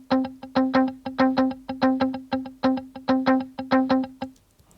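A Logic Pro arpeggiator pattern played as a muted electric guitar, a quick, even run of short plucked notes in a steady rhythm, close and alone, ending with a brief fade.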